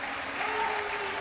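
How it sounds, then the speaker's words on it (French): A crowd applauds Intel at the GA2023 opening ceremony, a short, even burst of clapping with a faint tonal hum underneath. "On les applaudit bien fort, s'il vous plaît, Intel."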